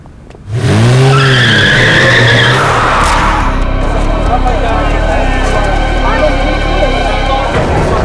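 A car skids with loud, drawn-out tire squeals as it is driven recklessly and brought to a halt, followed by a sustained engine and road rumble with background noise.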